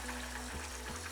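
Chicken adobo boiling in a pot, a steady bubbling simmer with a low, continuous hiss, faint and close, with no talk.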